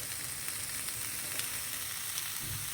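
Fenugreek seeds and asafoetida fry in a pan for a pumpkin puli curry, giving a steady, gentle sizzle with small crackles and the occasional soft stir. No one talks over it.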